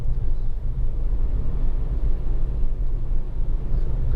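A Honda Accord EX 2.2 DTEC automatic tourer cruising on the road, giving a steady, continuous low rumble of engine and road noise from inside the cabin with no talk.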